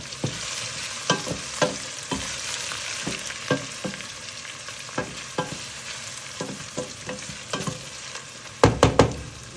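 Meat fries with cloves in a pan while a spoon stirs it, giving a steady sizzle broken by regular scraping strokes and a closing flurry of louder clacks against the pan.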